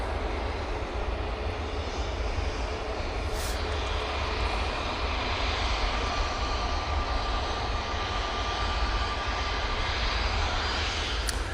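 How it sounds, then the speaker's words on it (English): A Jet2 Airbus A321neo begins its takeoff roll at Manchester Airport. The engine roar is loud and sustained, a dense, steady rumble with a faint high whine above it and no voices. "Jet2 A321neo now on the roll."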